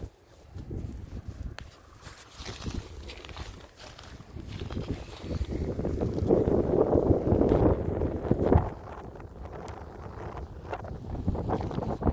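Outdoor wind buffeting the microphone in uneven rumbling gusts that swell to a louder stretch midway before easing, with no one speaking.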